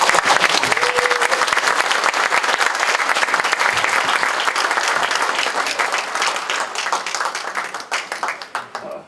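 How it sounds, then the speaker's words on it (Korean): A forum audience at Korea University gives loud, sustained applause to welcome novelist Jo Jung-rae to the stage, many hands clapping densely and evenly, tapering slightly toward the end. "뜨거운 박수로 환영합니다"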